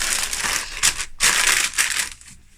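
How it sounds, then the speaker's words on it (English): Cardboard and packing material crunch and crinkle in several close, loud bursts with short pauses between them as an order is packed snugly into a shipping box in a small studio. "that will go into a shipping box"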